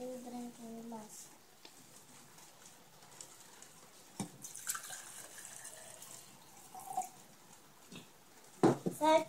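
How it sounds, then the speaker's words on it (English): One cup of water poured into a blue drinking glass, a soft trickle and splash with a few clinks. A louder burst near the end; no clear talk over it. "measure 1 cup of water and pour the water into the blue drinking glass"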